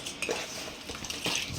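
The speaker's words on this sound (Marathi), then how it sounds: "आपण ह्याला मस्त हलवून घेऊया." A spoon stirs a salted mixture in a pot while making pani puri water, with quiet scraping and a few light clinks of metal against the pot's side.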